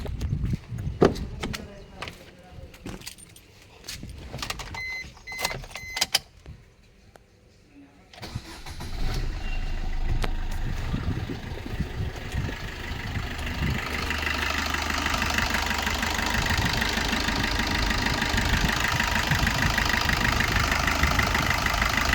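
A 2017 Maruti Swift Dzire VDI starts after some handling clicks and a voice, then settles into a steady, loud idle that holds close by for the rest of the clip.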